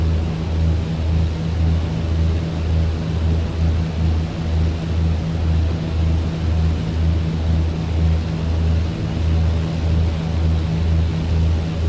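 A BN-2 Islander twin-engine propeller aircraft in Microsoft Flight Simulator, a loud steady droning engine hum with a pulsing propeller beat, continuous and unchanging throughout, no voices.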